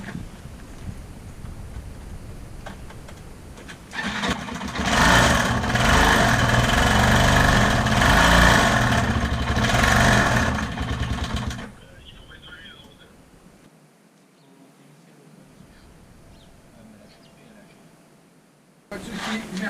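A faulty engine that stalls when the throttle is released runs loud and rough for about eight seconds, then drops away to a faint idle and near silence, with a voice speaking over it.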